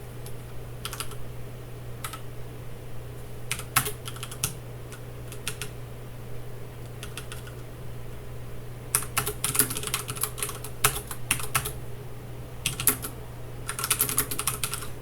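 Code is typed on a computer keyboard in bursts of rapid clicking keystrokes with short pauses between, close and clear over a steady low electrical hum.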